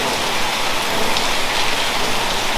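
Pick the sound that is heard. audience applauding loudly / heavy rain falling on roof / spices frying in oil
heavy rain falling on roof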